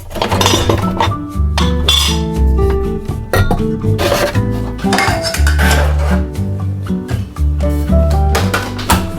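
Metal cutlery clinks and rattles repeatedly in a kitchen drawer, loud and close, with irregular bursts of jangling as pieces are shifted around.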